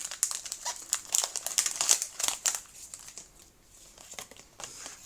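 Close, brisk crinkling and tearing of the foil wrapper of a Pokémon card booster pack, in dense rustling bursts that thin out toward the end, with no talking.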